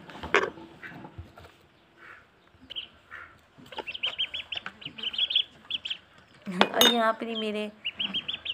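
Small ducklings chirp in high, thin peeps in bursts near the mic, with clinking metal and someone speaking briefly at the start.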